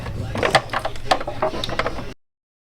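A ratchet with a swivel 10 mm socket works a B58 valve cover bolt loose, quick rapid clicking strokes in short bursts, close and clear, then silence.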